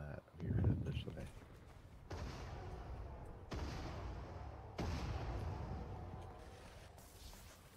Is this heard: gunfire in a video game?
yes